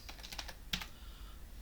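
Quick, light keystrokes on a computer keyboard, a short run of soft clicks followed by a single firmer tap, close-up and quiet against a faint room hum.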